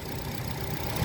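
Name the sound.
Nissan Grand Livina 1500 cc four-cylinder engine running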